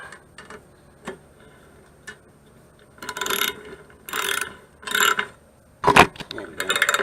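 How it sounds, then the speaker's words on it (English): Bolts are tightened on a Briggs 7.75 Pro engine of a Troy Bilt 2700 PSI pressure washer, producing close ratcheting clicks, first light and sparse, then louder bursts of rapid ratchet strokes. "And go ahead and tighten down your bolts."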